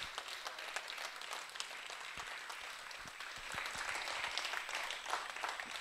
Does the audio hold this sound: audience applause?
yes